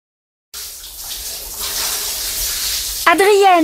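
Shower water running in a home bathroom, a steady broadband hiss starting after a half-second of silence and continuing throughout, with a voice speaking briefly near the end.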